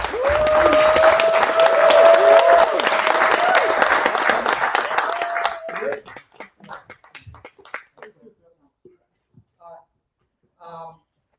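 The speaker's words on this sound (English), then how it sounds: "I want you to give him a great round of applause" Audience gives a sustained round of applause for a speaker being welcomed to the stage at an AI industry summit, loud and dense for about six seconds before thinning into scattered claps and fading out.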